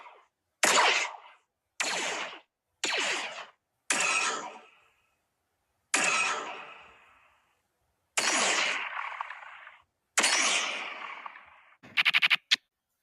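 Gunfire from a Mandalorian scene rings out as about eight separate loud, sharp blasts, each decaying into silence, ending with a rapid stuttering burst.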